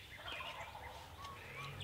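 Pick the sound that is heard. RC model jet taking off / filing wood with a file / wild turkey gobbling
wild turkey gobbling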